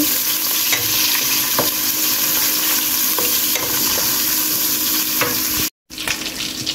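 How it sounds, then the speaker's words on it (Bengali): Shrimp fry in oil in a pot, giving a steady close sizzle with occasional stirring scrapes, loud and continuous apart from a brief cut near the end. "চিংড়ি মাছ দেওয়ার পরে বেশ কিছুক্ষণ ভেজে নিচ্ছি।"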